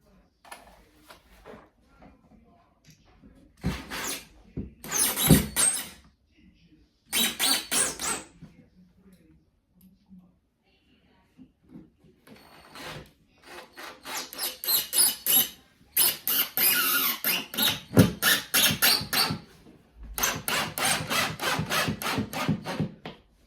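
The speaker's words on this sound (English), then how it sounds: "Now I'm going to take the cleat and screw it to the drywall anchor." A screw is driven by hand through a wooden shelf cleat into a drywall anchor, giving repeated bursts of scraping, grinding turns separated by short pauses, close and fairly loud.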